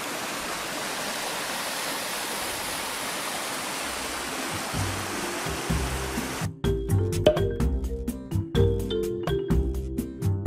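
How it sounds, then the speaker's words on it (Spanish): Steady broadband rush of a small waterfall flowing in a stream swollen by rain, continuous and fairly close; partway through, loud ringing electronic tones and chimes cut in over the water. "Una cascadita pequeña, hay más altas, son 7 en total."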